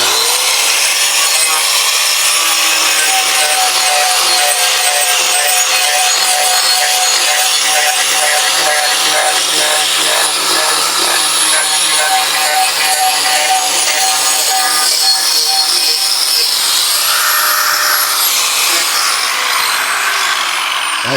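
A sculpting tool shaves and rubs steadily across cedar by hand, a continuous close, loud abrasive rasping that persists without pause throughout.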